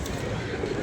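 A pigeon coos once in a short, low, soft call, close by, against a breezy outdoor background.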